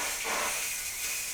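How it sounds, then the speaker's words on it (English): A steam cleaner hisses steadily while steaming a fridge tray, a continuous close, even jet of steam running the whole time with no talking. "I've got my steam cleaner there, which I'm gonna steam my tray with."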